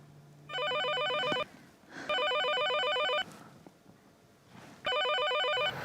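A telephone rings in three long trilling bursts separated by short pauses, clear and moderately loud with no talking.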